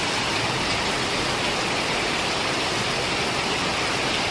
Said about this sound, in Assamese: পূৰা দি আছে বৰষুণ।